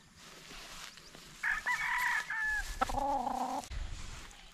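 A brood-cock rooster crows loudly and close, a long strained call with no one speaking over it, followed by brief low clucks.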